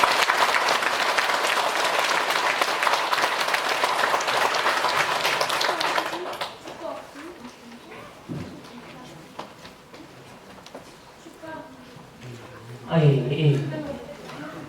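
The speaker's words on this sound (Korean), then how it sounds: "다시 한번 큰 박수" A hall audience at a Korean Buddhist talk gives a professor a loud, sustained round of applause for about six seconds, then it stops and quieter talk and a voice follow.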